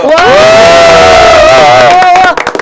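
Studio hosts on a Korean talk show cheer loudly for their viewers, making a sustained, close, whooping shout that rises and holds for a couple of seconds with crowd-like noise around it before cutting off.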